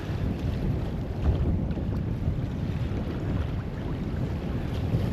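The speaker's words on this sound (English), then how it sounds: "And the breeze has picked up nicely, so we're making okay time" A sailboat running at about five knots east of the Cranberry Islands in a freshening breeze, with a steady, close, full rush of wind buffeting the microphone over wash and water noise and no talk.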